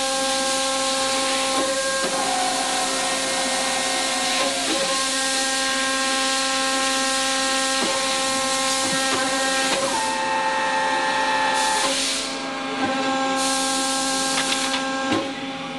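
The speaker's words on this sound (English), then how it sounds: "the machine will form in the automatic cycle" An automatic cycle on a bellows tube forming machine, Model HFBH 9501, gives a loud, steady mechanical whine with sustained tones, broken by periodic clunks and hissing releases every few seconds.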